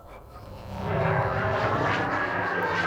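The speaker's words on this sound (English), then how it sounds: "Percy heard the airplane zooming overhead all day." An airplane passing overhead near an airfield, engine drone swelling from a low rumble to a loud steady roar as it approaches.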